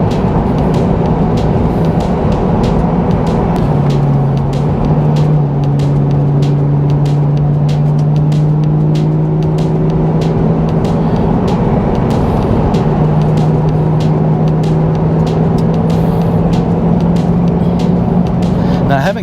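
A car climbing and cornering along winding Arkansas Highway 123 south of Mt Judea, its engine droning loudly and steadily with tire and road rumble throughout and the engine pitch rising and falling through the corners.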